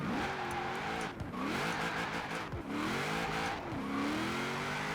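A car engine in Forza Horizon 4 revs high while drifting, rising and dropping in repeated surges with short dips between, loud and continuous.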